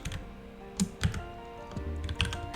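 Computer keyboard typing while Go code is entered, a run of light clicky keystrokes at close range with a few louder key hits, irregular rhythm, no talking.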